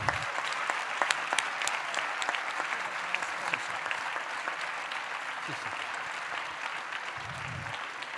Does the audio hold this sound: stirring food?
no